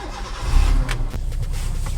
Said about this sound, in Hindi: गाड़ी को करता हूँ स्टार्ट।